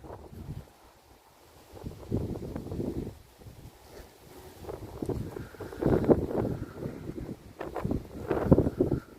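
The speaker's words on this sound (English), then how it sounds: "The wind's blowing a bit" Wind blowing outdoors on a country lane, gusty low rumbling buffeting the microphone in uneven surges, quieter at first and swelling louder toward the end.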